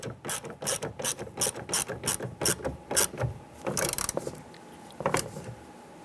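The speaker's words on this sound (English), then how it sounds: "let's go ahead and tighten that down." A hand ratchet tightens a bolt into a bracket while replacing a rear door wiring harness on a 2002-2008 Dodge Ram 1500, giving a close, steady run of sharp clicks in repeated bursts with brief pauses.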